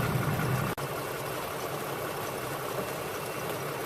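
A car engine idles steadily while Freon refrigerant is added to the air conditioning, a continuous mid-low hum with one brief dropout near the start and no talking.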